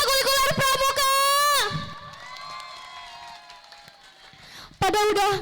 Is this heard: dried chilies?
no